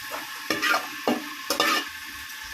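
Pumpkin stirred and tossed in a hot oiled pan, with scraping bursts of sizzling and clatter coming in several quick strokes over a steady frying hiss.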